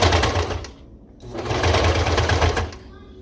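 A sewing machine stitches neck binding on a swing top. The loud motor hum runs in two bursts with a brief pause between them, and a voice is heard alongside.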